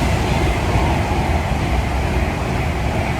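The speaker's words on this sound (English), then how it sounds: "train!" A train rolls past near a canal lock, producing a loud, unbroken rumbling roar that holds steady for the whole stretch with no voices over it.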